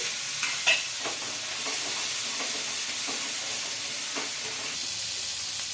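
Fresh coconut pieces frying in oil in a pan, a steady low sizzle with a few soft stirring clicks, close and alone.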